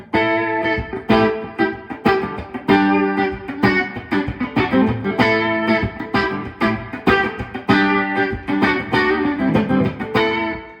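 Electric guitar played through a Carl Martin Headroom Mini reverb pedal on a short reverb setting, steady rhythmic chords and picked notes ringing out loud and close with a brief tail, no talking over it.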